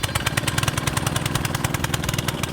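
A two-man gas-powered post hole auger engine idles loud and close with a steady, fast-pulsing chug, continuous throughout and without talk.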